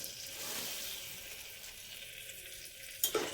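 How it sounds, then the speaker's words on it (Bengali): Popcorn kernels drop into melted butter in a pan and set off a soft, steady sizzle, ending in a brief sharp clatter. "বাটারটা গলে আসার পর কিন্তু আমরা হচ্ছে এই যে বিচি কি নেব বিচিগুলো এইগুলো দিয়ে দিলাম"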